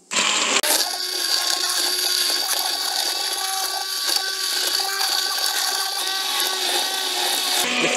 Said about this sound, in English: using a hand blender, we'll blend the soup